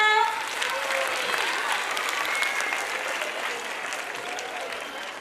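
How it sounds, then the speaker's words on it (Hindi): Loud, steady applause from an audience at a school annual function, a dense wash of clapping that holds for several seconds with a faint voice beneath. "उनका इस्तकबाल किया जा रहा है। जोरदार तालियां।"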